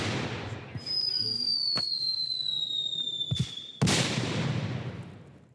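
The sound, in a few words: cannon fire and battlefield explosions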